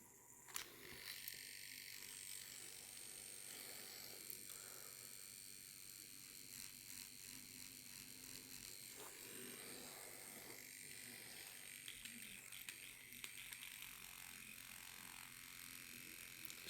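Yilong F5 wireless tattoo machine, a 3.5 mm stroke shader, running at a steady speed as a continuous close buzz with faint rhythmic ticks, holding even throughout with no talk.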